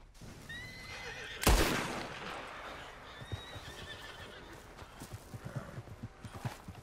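A horse in Red Dead Redemption 2 whinnies loudly early on, followed by a steady clip-clop of hooves.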